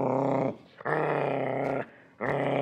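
A dog in a horror video game growls in long, loud, close bursts, with two sustained rumbling snarls separated by brief pauses and another starting at the end.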